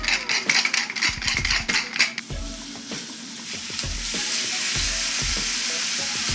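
Steak and short ribs sear in a cast iron skillet, giving a loud, close, steady roar of sizzling that swells as the meat goes in, with clattering knocks and scrapes in the first seconds.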